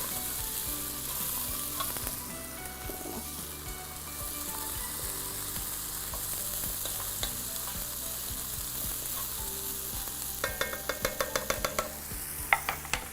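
Mushrooms and chicken sizzle steadily in a pan for a creamy mushroom chicken dish, with a run of quick utensil clicks and scrapes near the end as the pan is stirred.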